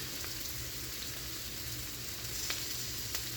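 Garlic sizzles steadily in a hot pan for a chicken and cabbage stir fry, a continuous close frying hiss with a couple of sharper pops, no voices.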